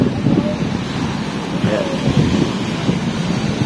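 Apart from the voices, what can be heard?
strong wind and waves at the seashore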